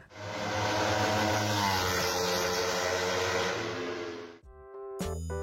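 A 250cc two-cylinder motorcycle engine roars steadily and loudly for about four seconds, then cuts off abruptly, followed by brief tonal sounds.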